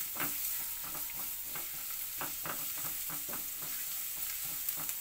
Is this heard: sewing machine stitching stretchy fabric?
no